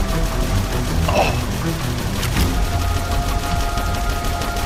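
Gunfire in a video game, shots aimed at the player, crackles as a steady spray of bursts over a dense, noisy game backdrop, with a brighter sharp volley partway through.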